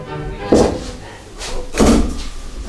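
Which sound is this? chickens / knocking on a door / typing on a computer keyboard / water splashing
knocking on a door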